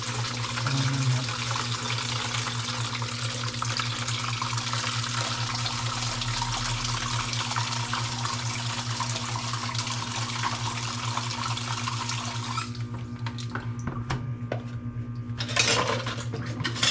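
Tap water runs steadily into a sink during dishwashing, a continuous close rush with a low hum beneath, cutting off near the end and followed by a brief clatter.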